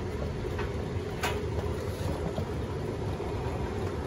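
Beko WTK104121A washing machine on a Cottons 40° cycle entering its final spin while pumping out water: a steady, continuous rushing hum and whoosh, close and unbroken, with no talking.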